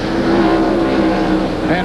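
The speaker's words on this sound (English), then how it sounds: "Now hard on the accelerator as he comes off the turn." A NASCAR stock car driven by Geoff Bodine on a road course roars loudly as it accelerates hard out of a turn, engine note climbing under an announcer's commentary.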